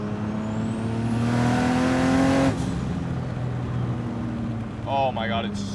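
A modified single-turbo Nissan Skyline R32 engine revs hard toward redline, its pitch climbing steadily, then drops back to a loud, rough idle. A voice briefly cuts in near the end.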